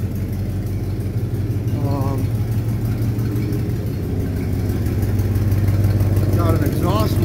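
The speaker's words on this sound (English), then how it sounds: "Got an exhaust leak for sure." A 1969 AMC Javelin engine idles with an exhaust leak, a loud, steady low rumble with a rough, uneven puffing texture that grows slightly louder toward the end, while someone speaks briefly over it.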